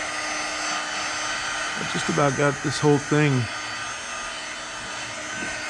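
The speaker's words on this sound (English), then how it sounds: "using my little blow dryer here" A small handheld blow dryer blows steadily on foam scenery for a model railroad layout, a constant close airy whir running throughout while someone talks briefly over it.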